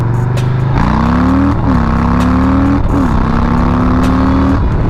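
A deep, throaty Harley-Davidson Low Rider S 114 V-twin engine revs and accelerates through several gear changes, loud and close, with a steady rumbling pitch rising between shifts.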